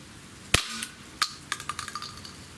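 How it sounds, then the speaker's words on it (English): A Walther CP99 air pistol fires at a shotgun shell target: a sharp crack followed by a second pop and a quick scatter of small ticking impacts, close and with no talk. "let's hit the shotgun shell on the right"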